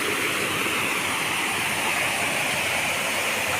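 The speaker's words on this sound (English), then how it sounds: "this magnificent pool with the waterfall" Waterfall pouring into a pool in the Villa d'Este garden at Tivoli, a steady, loud, close rush of falling water with no break.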